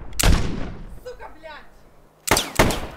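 Gunshots crack at a Soviet border post: one loud burst at the start, then after a lull with faint shouting, two more sharp blasts close together near the end.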